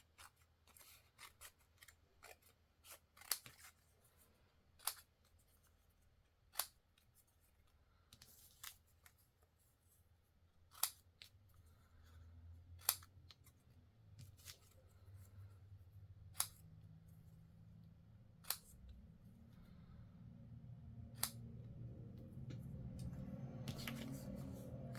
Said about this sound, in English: I think I'll cut this one down.